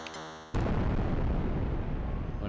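A bomb explosion in a Jeff Minter Atari game, a sudden loud roaring blast that cuts off a brief electronic tone and then rumbles steadily to the end.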